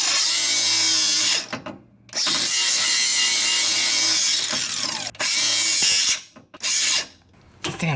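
Steering rack limiters on a Mustang drift car being cut off with a power tool: loud, close, sustained grinding and cutting broken by a few short pauses, with no talking.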